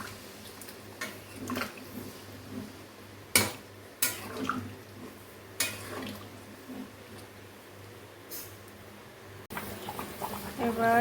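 Chicken korma being stirred in a pot after water is added, with scattered clinks and scrapes of a spoon against the metal over a steady low background hum and occasional faint speech.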